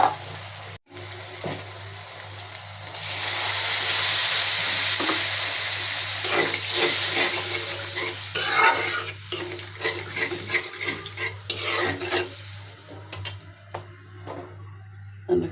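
Spice paste frying in a pan with steady stirring, part of a prawn and spinach dish: a loud, continuous sizzle with scraping strokes of a spatula coming and going at close range, and no one talking.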